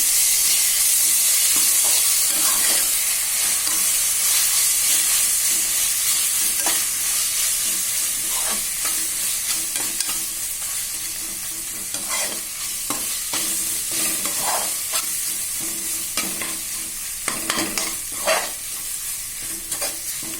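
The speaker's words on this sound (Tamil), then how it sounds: "ஒரு நிமிஷம் வதங்கட்டும்." Ginger garlic paste sautés with onions in a pan while cooking chicken biryani, giving a steady close sizzle and fry with intermittent stirring scrapes throughout.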